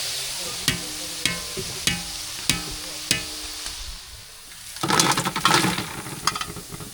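Cauliflower chilli deep-frying in hot oil, with a steady close sizzle punctuated by regular sharp ladle taps against the pan, then a louder, busier surge of bubbling near the end.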